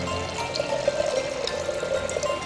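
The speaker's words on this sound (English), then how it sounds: "going to fill it up with also 800 cc's of ozonated water from this amazing machine" Ozonated water pours steadily from a machine into a beaker, a continuous close trickle with a faint rising fill tone and no talking.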